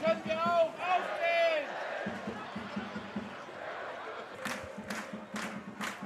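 Football fans at an Eintracht Trier Oberliga match against FV Diefflen chant and roar in a rhythmic crowd swell, with sharp bursts and claps near the end, a commentator's voice running over it.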